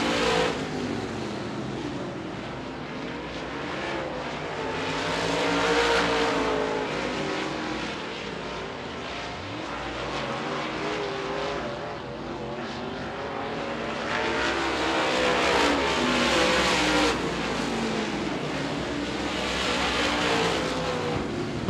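Dirt late model race cars roar around the Devil's Bowl Speedway track, engines swelling and fading as the pack passes. The loud, continuous engine noise rises and falls in waves across the laps.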